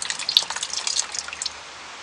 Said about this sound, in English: then eventually that will be followed by diesel fuel, but we'll just let that drip all the way through